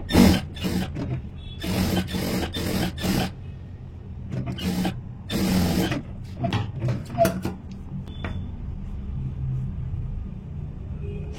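A sewing machine stitches a blouse in fast mechanical bursts, its needle rattling loudly over a low motor rumble with short pauses between runs, then softer, sparser clicks toward the end.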